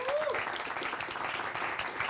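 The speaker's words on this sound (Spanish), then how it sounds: "Un aplauso para Franco" An audience claps steadily through the whole stretch at a TV show elimination segment, a dense, even wash of applause with a brief whistle-like tone at the start.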